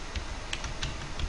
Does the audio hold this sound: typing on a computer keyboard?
yes